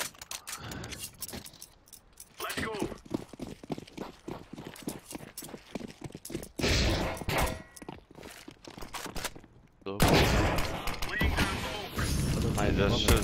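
Rapid gunfire rattles through a Counter-Strike match on the Mirage map, arriving as bursts of sharp cracks with gaps between them, while a player talks over much of it.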